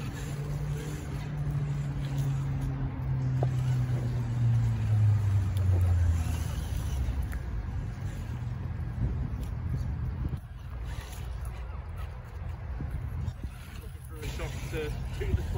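A motor whines steadily and then drops in pitch as an HPI Wayfinder RC crawler drives through water outdoors, with splashing and noise over a constant hiss and a voice talking at times.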